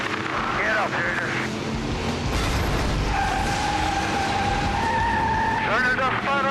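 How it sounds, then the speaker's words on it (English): Race car spinning out on a dirt oval track during a Full Moon Madness race night, tires squealing and skidding in long sweeping tones over a roaring engine and constant crowd and commentary noise. "Junior just spun it out."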